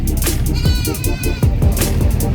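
Goats bleat repeatedly at a livestock market in San Carlos, with several wavering cries overlapping amid steady crowd noise and background chatter.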